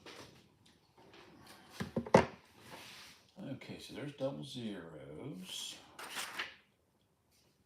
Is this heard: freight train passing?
no